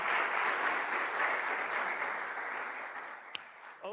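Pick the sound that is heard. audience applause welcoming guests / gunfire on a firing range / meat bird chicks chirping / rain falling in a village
audience applause welcoming guests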